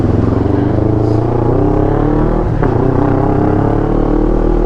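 A 2021 Kawasaki-style NK400 V3 big bike drones steadily at close range during a test ride, its engine holding an even, loud note with slight shifts and a brief change midway.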